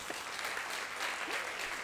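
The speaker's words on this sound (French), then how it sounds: "Et vous pouvez applaudir maintenant si vous voulez" Audience clapping at a French e-commerce business event, a steady broadband patter of many hands filling the room, fairly distant and sustained throughout with no talk over it.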